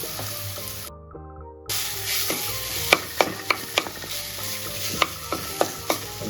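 Crispy banana flower usili stir-frying in a pan, a continuous close sizzle broken by a brief silence, then sharp repeated scrapes and clinks of the spoon against the pan bottom, with no talking.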